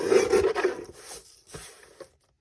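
Junk mail paper being trimmed for a handmade journal, a rasping, rubbing cut that is loud at first, then fades into a few lighter scrapes and a final short snip.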